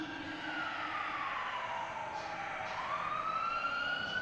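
Emergency vehicle siren in an audio story, a loud rising and falling wail over steady engine rumble from inside the vehicle, no talk.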